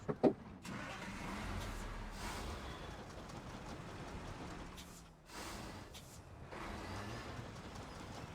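A truck engine running at low revs with water in the engine, a steady, dense mechanical rumble that carries on throughout, with a brief dip in level partway through.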